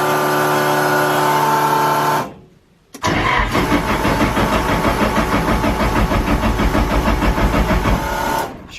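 Nissan Skyline R34 GT-R engine cranks briefly, pauses, then catches and starts, settling into a loud, steady, rumbling idle close by with no talking.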